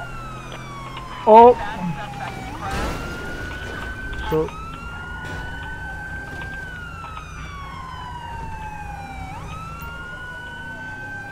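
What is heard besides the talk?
police siren in video game LSPDFR (GTA V mod)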